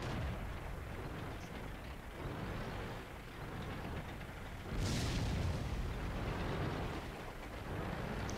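Artillery shells exploding around a tank in World of Tanks on the Ruinberg map, heard as a steady rumbling battle din with a louder booming burst partway through, no talking.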